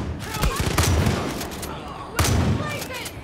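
Shotgun blasts in the Far Cry 5 video game: two loud, sharp booms about a second and a half apart, with shorter gunfire bursts and game noise between them.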